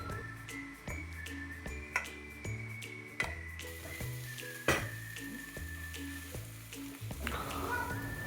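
Greens and grated coconut stir-fried in a pan for a South Indian keerai thoran, with repeated clinks and scrapes of a spoon against the pan over a faint sizzle, close and fairly quiet.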